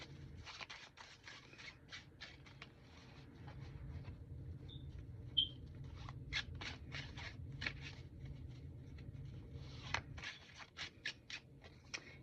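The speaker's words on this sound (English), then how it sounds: "The shuffle test, it actually shuffles like a dream." Quiet, close-up shuffling of a tarot deck, with soft repeated riffling and flicking bursts against a low hum, with a couple of brief sharper taps.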